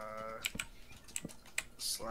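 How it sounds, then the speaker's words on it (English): Computer keyboard keys clicking in a short irregular burst of a few close, fairly quiet taps, heard during a voice chat session. "it just sounds like I can hear your keyboard"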